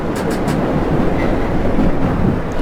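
Subway train in World of Subways 4, a loud steady rumble of wheels and motor with rhythmic rail clatter, running continuously close up with no talking.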